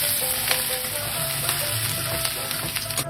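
Chopped garlic sizzles steadily in hot oil in a kadai, added after dried red chillies, giving a close, even crackling hiss with no voices.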